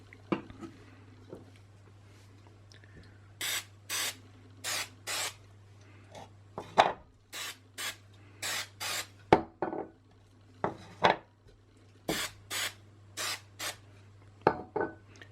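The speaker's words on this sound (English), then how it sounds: "Again, as this is spray adhesive," Spray adhesive hisses from an aerosol can onto a fabric-wrapped 3D print in a series of short, sharp bursts of roughly half a second each, with brief pauses between them, loud and close with no talking.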